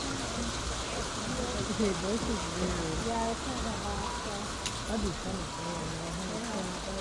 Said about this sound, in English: Now what's a little hail among friends?